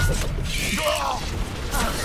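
An Expelliarmus spell is cast in the Hogwarts Legacy video game, a short magical whoosh with rising, shimmering tones over a rumbling game backdrop, with a voice present.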